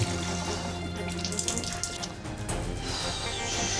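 Water running and dripping indoors from a leak, a steady wash of splashing water with scattered drips throughout, fairly close and continuous.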